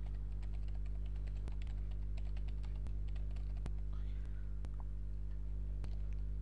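Scattered keystrokes on a computer keyboard, quiet clicks at an uneven pace over a constant low electrical hum.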